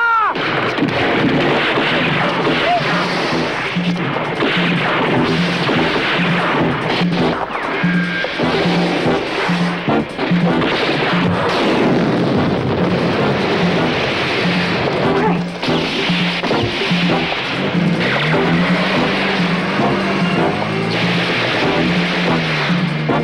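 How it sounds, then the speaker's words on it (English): Gunfire and explosions from a shootout in the 1977 South African blaxploitation film Mister Deathman, a loud, continuous rumbling barrage with heavy booms layered over music and scattered shouting throughout. "Stand by and shoot it out!"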